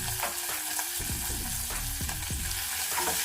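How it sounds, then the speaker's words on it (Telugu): Chopped okra with turmeric frying on a medium flame, a soft continuous sizzle close by with repeated spatula scrapes and stirring knocks against the pan. "మీడియం ఫ్లేమ్ మీద మనం వీటిని ఫ్రై చేసుకోవాలండి"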